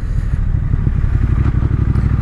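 A Triumph Thruxton R motorcycle engine idles and burbles close by just after a downshift into first gear, a steady loud low-pitched pulsing with a rough, uneven rhythm and no talk.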